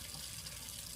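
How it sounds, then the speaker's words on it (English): Water running steadily from a tap into a sink at a decontamination cleaning station, a continuous soft splashing stream at moderate distance, with no talking. "Turn off my water."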